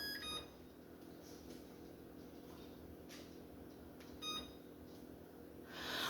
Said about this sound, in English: Hold on one second because the timer is going to go off.